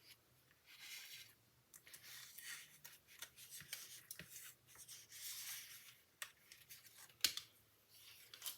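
Scissors snip out stamped paper pieces for card making, a quiet, close series of irregular cuts and paper rustles with small pauses between strokes.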